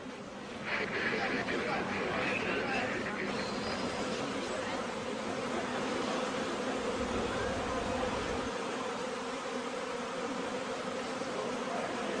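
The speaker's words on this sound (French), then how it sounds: "Cet essaim n'a pas de miel à protéger et il est très rare que les abeilles attaquent dans ce cas." A honeybee swarm clustered on a tram power line hums steadily as a dense buzzing drone, moderately faint, mixed with outdoor noise and some indistinct background voices.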